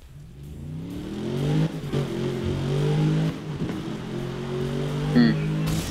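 A sports car racing at high speed in Need for Speed Rivals, its engine droning steadily with rising and falling revs under a game soundtrack, loud and continuous throughout.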